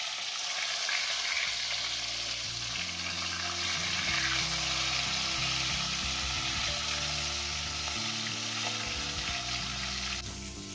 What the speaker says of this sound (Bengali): মাছটা এবার এপিট ওপিট করে উল্টে নিয়ে লাল লাল করে ভেজে নেব।